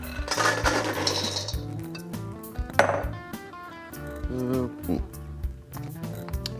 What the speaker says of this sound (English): Then add your nuts in.